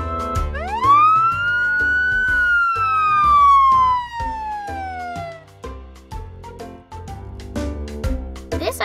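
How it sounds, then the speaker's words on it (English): An ambulance siren in a children's interactive picture book sounds loud and clear, a sweeping wail rising then slowly falling, followed by quicker stepped tones. "Touch it to hear the siren."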